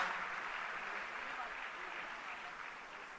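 An audience applauds students at a government event in Delhi, a dense, even wash of clapping that fades slightly over a few seconds with no speech.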